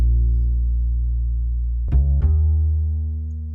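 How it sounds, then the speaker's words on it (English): A deep synthesized hip hop bass line for a verse section holds one low sustained note, then shifts pitch twice in quick succession before trailing off. It plays alone and fairly loud, with no voices. "I created a bass line for that particular part that sounds like this"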